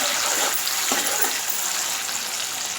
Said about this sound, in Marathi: अगदी व्यवस्थितपणे सगळं फ्राय होत आहे.